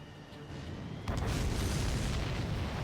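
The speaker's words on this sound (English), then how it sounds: "Did you see that explosion?" A sudden loud blast about a second in, followed by a sustained rumbling roar that fills the rest of the clip, with no talking, from an aerial combat explosion in Ace Combat 7: Skies Unknown.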